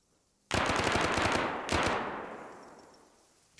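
Automatic gunfire from the video game ArmA 3 erupts in two loud, close bursts of rapid shots, the second trailing off into a long echoing decay.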